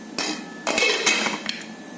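A lid clanks onto a pot of salted water with eggs on a gas stove, making several bright metallic clatters and clinks in quick succession, close and without talk.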